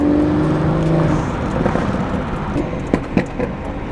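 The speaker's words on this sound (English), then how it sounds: "That exhaust is definitely breaking in." A BMW F30 with a B58 engine and a breaking-in exhaust drones along, a throaty engine note easing off into road noise with a few sharp crackles near the end.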